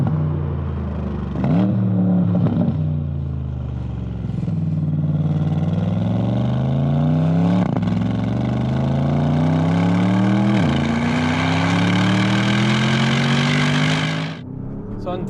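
A 2021 Porsche Panamera Turbo S engine revs loudly, pitch climbing through several gear changes in rising sweeps, then cutting off near the end.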